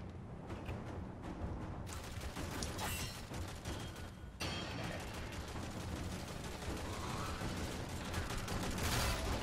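Enemy gunfire in the Warframe video game: a steady, dense crackle of shots runs throughout at moderate level, with a few sharper bursts layered over the continuous clatter and no clear speech.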